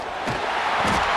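Loud stadium crowd roar from EA Sports College Football 26 swells steadily through a brief moment, a dense wall of noise with no single voice standing out.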